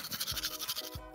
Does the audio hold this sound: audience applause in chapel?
no